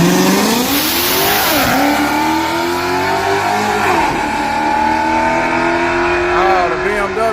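Drag race cars, a Mustang against a BMW, accelerating hard at an outlaw grudge-racing track, engines roaring loudly with rising revs throughout, while people talk over the noise.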